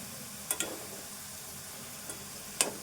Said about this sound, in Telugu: ఇంకా తెల్లగా ఉన్న ముక్కలన్నీ కూడా ఇట్లాంటి ముక్కలు కూడా వేగాలి.